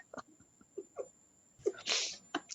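A single human sneeze, a short sharp burst of breathy noise near the middle, preceded by faint sniffs and small mouth sounds in a quiet room.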